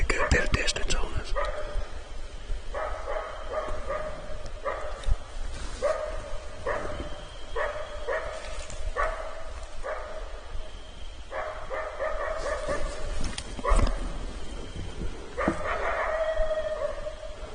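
A coyote barks and yips in bursts somewhere off in the woods at night, the calls fairly distant and repeated over a faint, steady background hiss, with occasional quiet movement nearby.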